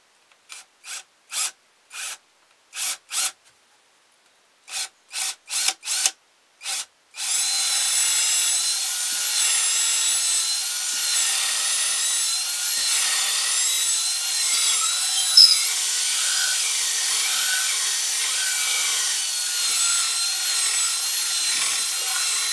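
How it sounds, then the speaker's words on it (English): A 1/4 inch drill bit bores into the wooden part of a carved ventriloquist figure. A series of short rasping strokes comes first, then a long, steady, grinding whir that carries on close and continuous. "So I'm going to use a 1/4 inch drill bit here to go down in here"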